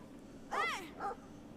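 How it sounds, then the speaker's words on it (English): A mean dog in the video game Brothers: A Tale of Two Sons lets out two short, yelping barks, the first longer and rising, heard close over a quiet background. "There's one mean dog."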